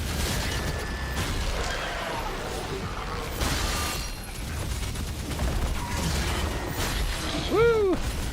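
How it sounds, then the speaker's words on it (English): Rapid machine gun fire rattles on and off in DOOM Revelations amid game noise and explosions, ending with a short rising electronic warble. "I love sustained machine gun fire"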